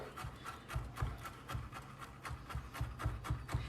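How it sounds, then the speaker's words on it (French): A knife chops capers on a cutting board in a home kitchen, a quick, even rhythm of soft taps, roughly three per second, close and faint, with no talking. "j'ai 2 cuillères à soupe de capres ici que je vais juste hacher avec mon couteau"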